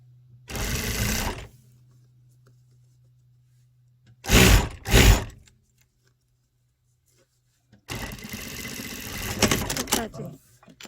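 A sewing machine topstitching a slanted trouser pocket, in three bursts of rapid close stitching separated by pauses, with a faint steady hum underneath.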